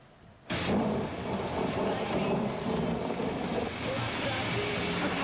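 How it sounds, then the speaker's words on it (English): A thunderstorm at night in the Georgia backwoods breaks in suddenly with a loud, steady rush of heavy rain and deep rolling thunder, dense and continuous throughout. "did I mention it was a dark and stormy night?"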